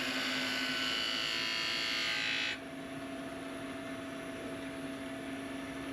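A wood lathe spins as a chisel rounds over the edge of a single-piece wooden yoyo. A loud, hissing cut is heard for about two and a half seconds, then stops, leaving the steady whine of the lathe running alone.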